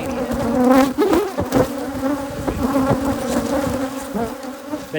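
Africanized hybrid honeybees swarm around an open hive as it is worked, a dense, continuous buzzing drone with individual bees whining close past the microphone throughout.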